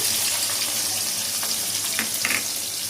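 Chopped chilli frying in hot oil for fried rice, a constant bright sizzle with a few soft stirring scrapes near the end, close and alone.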